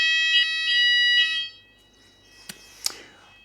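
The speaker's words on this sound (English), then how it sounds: "They're testing the fire alarm right now" A fire alarm under test sounds three short, shrill electronic beeps in quick succession, then falls quiet except for a couple of faint clicks.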